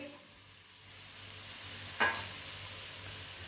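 Dried coconut tipped into a frying pan over low heat, a faint steady sizzle with a brief sharp rush of frying as it lands, then a gentle hiss.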